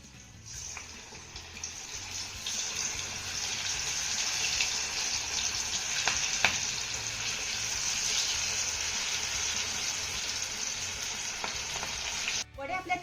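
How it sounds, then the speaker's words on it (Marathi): Cabbage vadis deep-frying in hot oil in a wok give off a loud, steady sizzle with crackling bubbles, close up and continuous, with no voices. "त्यासाठी कढईमध्ये तेल देखील आपलं चांगलं गरम झालंय आता यामध्ये आपल्याला वड्या सोडून तळून घ्यायच्या"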